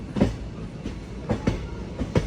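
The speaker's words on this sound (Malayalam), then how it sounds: "ട്രെയിൻ ഇപ്പോൾ യഡ്കുമാരി എന്ന് പറഞ്ഞിട്ടുള്ളൊരു റെയിൽവേ സ്റ്റേഷനിൽ എത്തിയിരിക്കുകയാണ്" The Vijayapura to Mangaluru special express train rolls into Yedakumari station in the Shiradi Ghat, its wheels clacking over rail joints in a steady rhythm of about six distinct knocks, loud and close.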